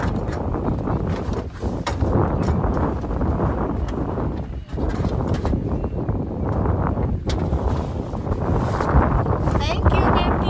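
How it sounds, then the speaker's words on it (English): Strong wind buffeting the microphone while riding on the back of a moving truck, loud and continuous rumbling gusts throughout, with people talking over it. "And the wind is so strong, yeah."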